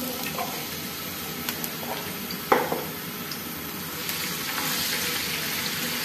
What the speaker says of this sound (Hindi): लहसुन अदरक को आपने अच्छे से ब्राउन करना है